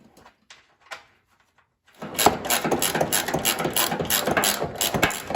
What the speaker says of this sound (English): Then you can easily tighten the nut on.